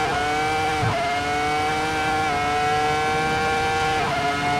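A high-revving race engine screams at a sustained high pitch near its limit, close and loud, with brief dips as it shifts down through the gears.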